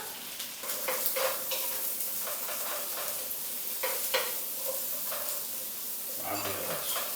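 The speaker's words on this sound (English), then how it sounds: "Let's get the mushrooms in, cook out some moisture and get a bit of colour on there." Sliced mushrooms fry in a pan while a utensil stirs them, giving a steady sizzle broken by scraping, clinking strokes and a few louder knocks near the end.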